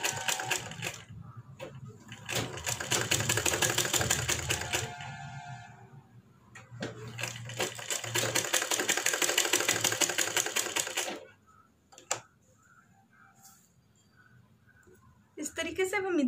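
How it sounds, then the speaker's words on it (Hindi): A sewing machine stitches along a blouse back neck in two long, loud, steady runs of rapid whirring, each several seconds, separated by short pauses and brief clicks. "इस तरीके से अब हम इधर की तरफ आ गए, अब इधर की तरफ स्टिच कर लेते हैं।"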